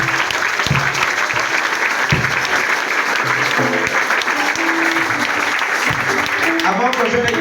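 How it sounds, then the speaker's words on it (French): A church congregation applauds loudly and continuously in worship for Jesus, with cheers and voices mixed into the clapping. "On acclame très fort pour Jésus"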